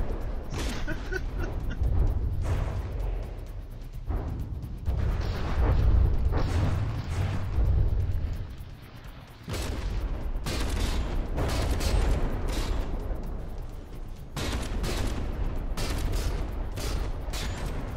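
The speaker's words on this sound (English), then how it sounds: "How many of its guns has it lost? Not that many, seeing as how I can't see them through the smoke of them firing." Warship guns fire in a robot battle video game, a loud, dense barrage of booming volleys that rolls on almost continuously, easing briefly midway before resuming.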